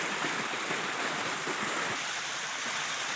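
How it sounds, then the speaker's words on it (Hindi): Steady broadband rush of a waterfall tumbling down a valley in Kashmir, loud and continuous with no break or voices across the whole stretch. "ज़बरदस्त वाटरफॉल, बहुत प्यारा नज़ारा माशाल्लाह जी"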